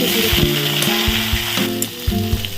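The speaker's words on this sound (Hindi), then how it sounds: "देखो ये बैगण टी पड़ जाए तेल।" Eggplant and onion frying in oil, a bright, continuous close sizzle and crackle with some faint scraping and tonal ringing underneath, loud and steady throughout.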